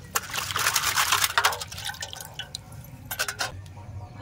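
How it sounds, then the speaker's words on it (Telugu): Chicken legs are washed in water with turmeric: soft, close splashes, drips and trickles come in small bursts. The sound is quiet, with no talking. "ఇప్పుడైతే మనం అయితే పసుపు వేసి మంచి నీట్గా కడుగుదాం ఒకసారి నీళ్ళు"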